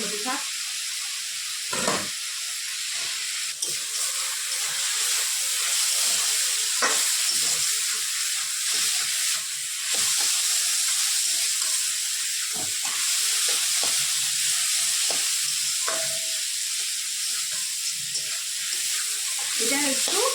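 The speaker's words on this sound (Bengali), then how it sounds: "নেড়ে চেড়ে ভাজা ভাজা করে নিচ্ছি" Vegetables for veg chowmein fry in a pan with a continuous hissing sizzle, punctuated by repeated clattering stirs of a utensil against the pan over about twenty seconds.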